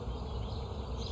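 Honeybees buzz in a dense, continuous drone close by as a hive frame is handled during an inspection, with no voices over it.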